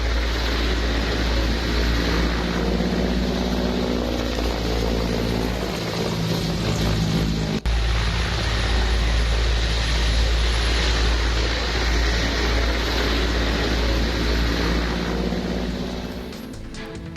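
A helicopter arriving to collect wounded soldiers: heavy rotor thump and engine roar, loud and close, running steadily throughout with no talking.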